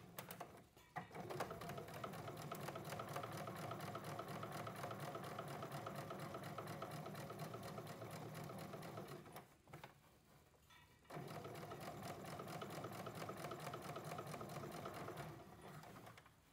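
A sewing machine runs a decorative seam along the checked fabric lining of a backpack, whirring in a fast, even mechanical rhythm, stopping briefly partway, then resuming.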